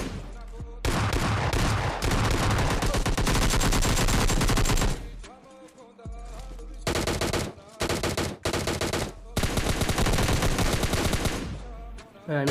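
Gunfire in PUBG Mobile Lite arrives as loud rapid automatic bursts, a long continuous stretch, a brief lull, then more bursts separated by short gaps.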